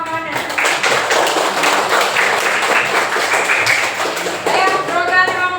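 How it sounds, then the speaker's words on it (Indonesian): Children in a fifth-grade classroom clap for their classmates, a lively, dense round of applause lasting several seconds, with voices at the start and end. "Kasih aplaus dulu buat kawan-kawannya."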